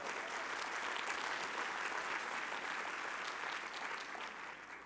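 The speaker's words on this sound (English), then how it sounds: "Give Ramiro a big applause." A breakfast audience at a national Hispanic chamber of commerce conference applauds its president and CEO: dense, steady clapping from a large crowd, sustained for about five seconds and easing slightly at the end.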